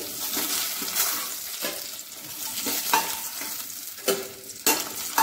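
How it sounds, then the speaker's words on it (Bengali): Koi fish fry in hot oil in a pan, a steady close sizzle broken by sharp clicks and scrapes as the pieces are stirred and turned, with no talking. "আমার মাছগুলো দেখুন ভাজা হয়ে গেছে। এরকম লাল লাল করে মাছটা ভাজতে হয়।"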